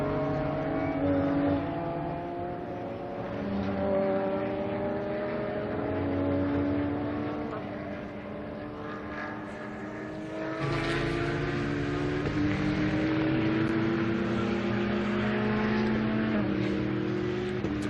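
Supercar Challenge race cars, including a bright green Porsche, roar around the Assen circuit, with overlapping engine notes rising and falling as cars pass, swelling louder toward the end, and no voices.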